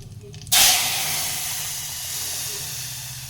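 Spiced buttermilk hits a hot tempering in the pan with a sudden loud sizzle that settles into a steady hissing, close by.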